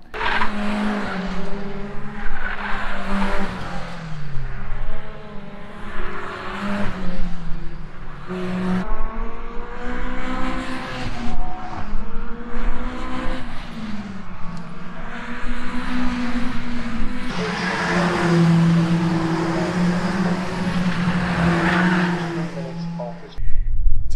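Caterham 420 and 310R race cars lap Cadwell Park circuit, engines droning loudly and shifting pitch as they pass, with tyre noise and overlapping passes throughout and a voice talking at times.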